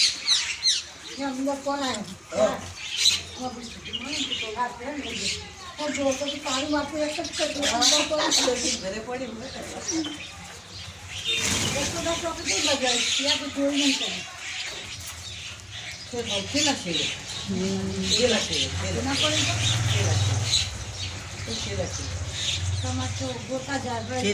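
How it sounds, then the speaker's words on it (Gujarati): Sparrows and pigeons feeding on grain in a home courtyard chirp and squawk repeatedly close by, mixed with people talking over a steady background hum. "ચલો અમારા ઘરમાં જો ચકલા કબૂતર કેટલા બધા છે"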